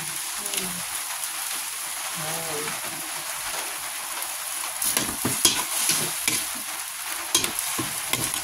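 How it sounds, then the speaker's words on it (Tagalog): Ground pork being stirred and turned in a sizzling pan while cooking sinantolan, a steady scraping and frying sizzle close up, with brief bursts of talk over it. "At halo-halo lang hanggang sa maluto yung giniling."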